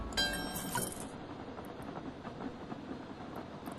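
Trains running in the video game Train Valley 2, heard as a soft steady rail rumble with faint hissing and a bright burst at the start, with no speech.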